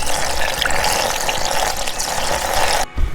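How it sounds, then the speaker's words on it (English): Coolant gushes steadily from the back of a leaking car water pump, a loud continuous splashing pour that breaks off abruptly near the end. "it's pouring out of the back of the water pump"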